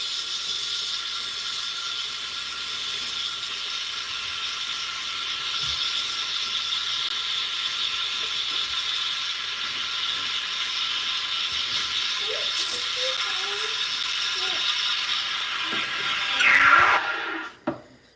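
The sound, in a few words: espresso machine steam wand steaming milk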